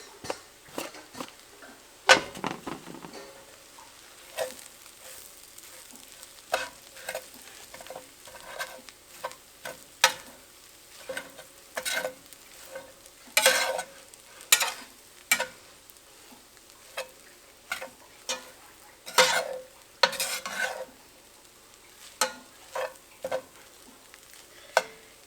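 Bacon stirred in a hot frying pan gives repeated sharp scrapes and clatters over a low, steady sizzle, close and fairly loud, with no talking.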